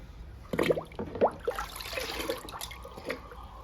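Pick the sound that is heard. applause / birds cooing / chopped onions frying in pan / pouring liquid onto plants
pouring liquid onto plants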